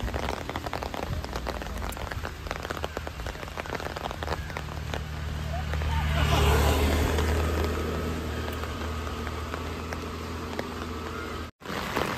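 Heavy rain pours down in a storm at Jhakri Falls Park near Gangtok, a dense, continuous hiss that swells for a few seconds midway before settling back, with no talk.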